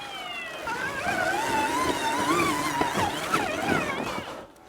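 A trials motorbike engine revving through thick mud, a buzzing whine that rises and falls in pitch over several seconds, close and loud, fading out at the end.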